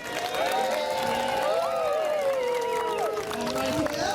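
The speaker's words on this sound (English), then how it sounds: "Let's have a round of applause" A crowd at a town day dog show claps and cheers outdoors, a moderate round of applause mixed with chatter and a voice speaking over it while dogs yip and whine nearby.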